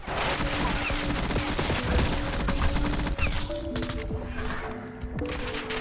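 An ASVAL assault rifle rattles in Black Ops 6, rapid sustained bursts of sharp shots stacked densely and close, layered over tonal game sounds with a brief lull near the end.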